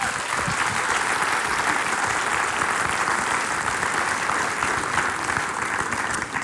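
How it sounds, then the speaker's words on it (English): Loud, sustained applause from a theater audience in Amsterdam as caregivers come on stage, thick continuous clapping without talk. "Please, your applause for Wilma, Elian, and Casper."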